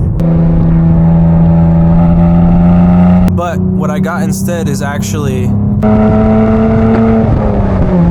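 A Cadillac CT4-V Blackwing with an aftermarket exhaust holds a loud, steady engine drone with strong low harmonics, heard from inside the car. Someone talks briefly over it before the engine note rises again as the car accelerates.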